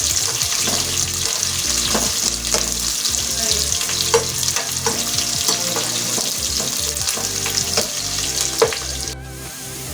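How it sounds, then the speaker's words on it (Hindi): Onions sizzling and frying in a pan as they brown for a restaurant-style mash dal, a loud, steady crackle with occasional stirring scrapes throughout. "प्याज को थोड़ा ब्राउन करना है बिल्कुल।"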